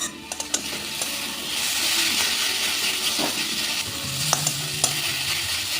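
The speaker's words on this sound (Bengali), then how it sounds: "এবার শাকটাকে ভালো করে ভেজে নেব।" Radish greens frying in a pan and being stirred with a spatula: a steady loud sizzling hiss with occasional scraping clicks, no talk.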